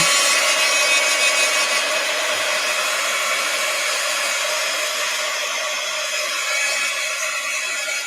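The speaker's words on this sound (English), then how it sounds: "Let's heat gun alert" A heat gun drying a freshly painted art page, a loud, steady close blowing whir that holds constant throughout with no talk over it.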